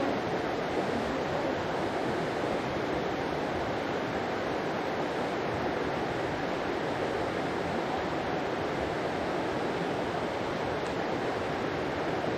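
Steady broadband rush of water pouring through a small stream channel after a rock blocking the flow was cleared, loud and continuous throughout with no talking.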